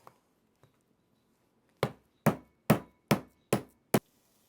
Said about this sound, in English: pounding a cup of flour into a pound of steak can be a little bit messy